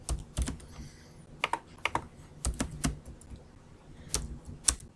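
Typing on a computer keyboard, irregular bursts of close, crisp key clicks with short pauses between groups.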